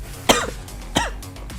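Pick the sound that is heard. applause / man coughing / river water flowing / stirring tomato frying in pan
man coughing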